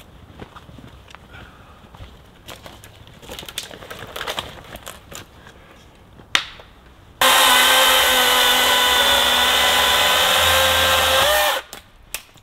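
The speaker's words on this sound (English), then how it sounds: "this chainsaw is awesome." A DeWalt battery chainsaw cuts firewood for a wood stove at a winter campsite, a loud steady high whine that runs for about four seconds after quieter handling and footsteps in the snow, then stops abruptly.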